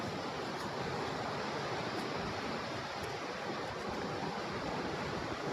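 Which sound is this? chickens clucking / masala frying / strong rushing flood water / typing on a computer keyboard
strong rushing flood water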